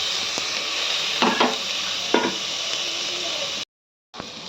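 Lentils sizzle steadily in a hot pan after tomato and coriander are added, a continuous frying hiss broken by a few stirring scrapes, with a brief cut near the end.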